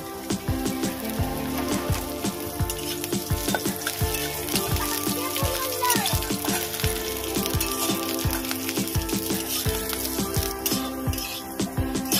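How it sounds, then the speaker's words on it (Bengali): Steady oil sizzling with constant popping and crackling of bitter gourd frying in a hot pan, continuing evenly throughout without any talking. "আমি এখানে উচ্ছে নিয়েছি, প্রথমে উচ্ছেগুলো ভেজে নেব।"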